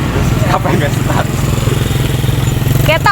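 Motorcycle engine running with a steady low rumble throughout, on a road trip between Suoh and Ulubelu in Tanggamus, Lampung; voices talk over it close by.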